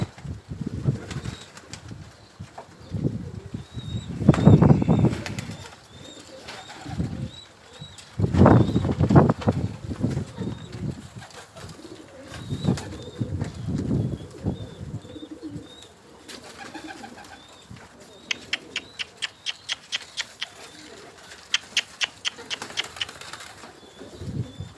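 Pigeons land and take off repeatedly, their wings clapping and whirring in bursts close by, with soft cooing between flights and a quick series of sharp wing claps near the end.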